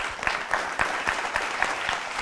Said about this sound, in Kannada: ಚಪ್ಪಾಳೆ ಬರಬೇಕಲ್ವಾ